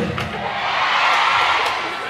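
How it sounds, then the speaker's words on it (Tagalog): A lively crowd at a dance event cheers and shouts in a dense, sustained roar that swells slightly toward the middle, with scattered whoops rising above the mass of voices. "Isang malakas na hiyaw na para ito."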